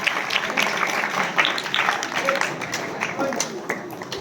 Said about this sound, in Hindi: और बच्चों की प्रस्तुति के लिए सभी जोरदार तालियों से